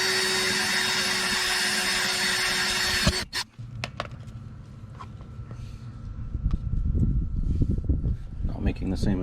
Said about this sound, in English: drilling the other side